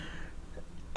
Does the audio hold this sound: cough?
yes